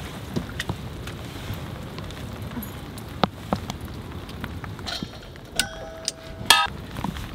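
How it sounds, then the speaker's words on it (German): Rain patters steadily on the outside of a parked camper van, a dense hiss broken by scattered sharp drips and taps, with a few louder knocks near the end and light wind noise on the microphone. "Gerade regnet es ein bisschen weniger"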